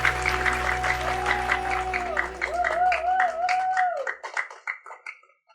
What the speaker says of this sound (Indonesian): Sekali lagi kita tepuk tangan